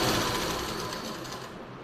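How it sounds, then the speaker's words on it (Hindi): A sewing machine stitching the center seam of a pair of trousers: a continuous, fast, dense whirring chatter, close and loud, easing slightly toward the end. "ये मैंने सेंटर से सिलाई लगा ली थी"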